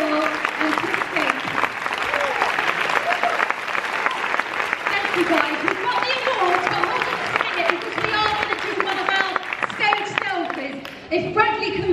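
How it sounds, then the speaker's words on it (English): Audience applause at VegFest London, a dense sustained round of clapping from a crowd, loud and continuous with voices and cheers mixed in. "Can we have an incredible VegFest round of applause?"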